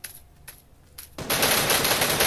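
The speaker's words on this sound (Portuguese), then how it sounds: "Vai dando tiro no carro, na direção do carro." Rapid automatic gunfire from a battle-royale video game, fired toward a car: a few faint distant shots, then a sudden loud, dense burst of sustained fire lasting to the end.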